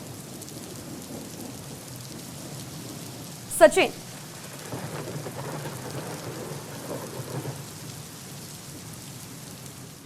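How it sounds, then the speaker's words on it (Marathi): Steady rain falling near Khadakwasla dam in Pune, a continuous hiss under a brief burst of speech near the middle, with low rumbling tones in the background. "गेले काही दिवसापासून पाऊस पडतोय"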